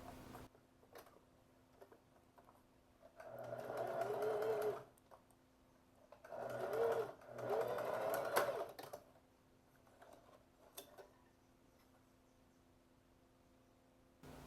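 A sewing machine stitches pleated shorts in two short whirring runs with a pause between them, fairly quiet against a soft background hum.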